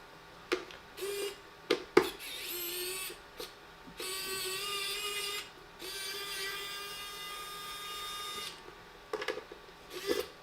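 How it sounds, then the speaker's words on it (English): An electric screwdriver works on an Apple 2023 Mac Mini with M2 chip, a run of short whirring bursts at first, then a long steady whine of several seconds, followed by a few more brief spins and clicks close by. "use my electric screwdriver and open it up"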